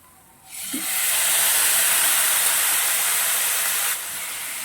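Tomatoes tipped into a pan of frying onions and ginger-garlic paste set off a loud, bright sizzle that swells within half a second, holds steady for about three seconds, then eases slightly and keeps hissing.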